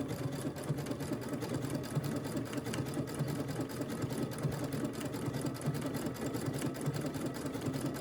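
Brother sewing machine fitted with a 7 mm walking foot stitches through a quilt sandwich of wool batting and quilter's-weight muslin, a steady, even mechanical whir with fast rhythmic needle chatter running unbroken throughout.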